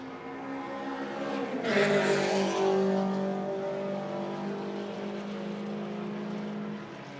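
Race cars, including a Subaru BRZ and BMWs, pass on a circuit during a club race, one engine swelling loud as it goes by, then settling into a steady drone.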